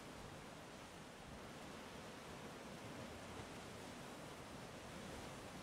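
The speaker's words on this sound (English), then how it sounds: "the shell creates like the sound of the ocean" A steady, soft ocean-like rush from a seashell cosmetic held to the ear in the Gorilla Tag flood update, faint and unbroken, with no other sounds.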